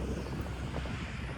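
Steady wind buffets the microphone in an open field during farm work, a continuous loud low roar with no voices.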